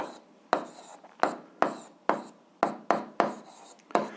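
A pen or chalk strikes and scratches a surface while an algebra solution is written out, eight sharp stroke onsets in an uneven rhythm, each fading quickly, with no voice audible.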